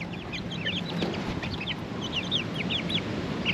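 Young chicks peep steadily in a DIY chicken tractor built from spare parts, a rapid chorus of high chirps continuing close by over a soft outdoor background with no talking.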